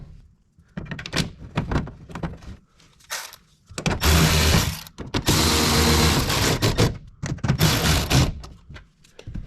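A power screwdriver drives screws into a WeatherTech mud flap on a dually truck, with several loud whirring bursts of a few seconds each, separated by shorter clicks, handling noises and brief trigger pulses, close up.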